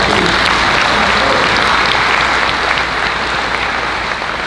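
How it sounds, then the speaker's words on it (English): Loud, steady applause from an audience fills the room at a livestock sale of champions, sustained clapping without a break. "So let's give those folks a round of applause too."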